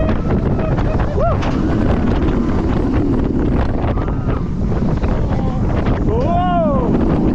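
A roller coaster at SeaWorld Orlando rushes through a hammerhead turn, a loud steady roar of wind buffeting the microphone with track rumble beneath, and riders whoop and cheer over it.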